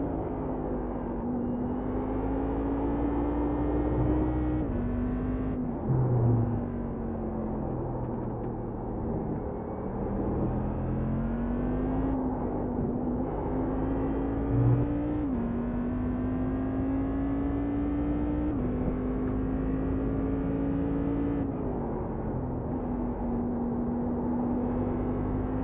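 Cadillac CTS-V racecar engine in the iRacing sim, droning steadily and rising and falling in pitch as the throttle is worked through laps, a continuous mid-loud whine with no talk.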